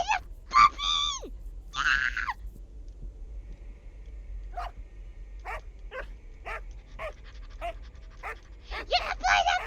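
Playable puppy in the horror game Enigma of Fear gives short yips and barks with soft panting, bursts separated by pauses, while a player talks excitedly over the game audio.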